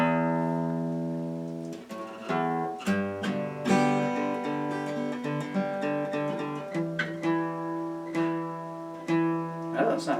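A guitar string is plucked and re-plucked repeatedly while being tuned toward E, ringing notes layered over each other in a steady series of close, moderately loud attacks with no talking.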